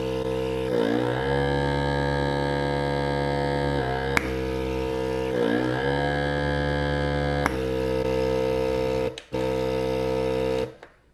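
A steady electric pump whine drones loudly and continuously from an InkBird Plus INK VS01 vacuum sealer, its tone shifting slightly in cycles, with a couple of clicks before it cuts off near the end.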